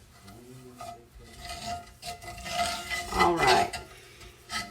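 A metal spoon stirs milk gravy in a pan, scraping and rasping against the bottom in uneven, fairly close strokes that grow busier toward the end, with a brief spoken word near the start.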